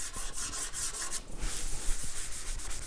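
Sandpaper rubs across the surface of a mixed media still life painting, a close, steady dry scratching that runs continuously with brief changes in stroke, alone without talk.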